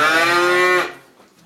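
A cow in a barn in Yakutia, kept indoors against the extreme cold, lets out one long, loud, close moo that stops abruptly and leaves near silence.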